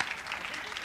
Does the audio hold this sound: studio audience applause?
yes